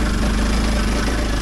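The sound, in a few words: Kawasaki KLX 230 motorcycle engine running in second gear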